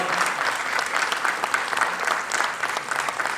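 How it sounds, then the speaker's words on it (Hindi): An art-loving audience at a Rewa dance programme gives a loud, sustained round of applause, dense and even throughout. "आप हमारे रीवा के कला प्रेमी दर्शक जोरदार तालियों से अभिनंदन करें"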